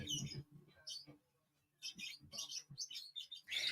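Pet birds chirp indoors in a sewing room, bursts of close, sharp tweets and squawks with a pause in the middle, mixed with faint household sounds and no talking.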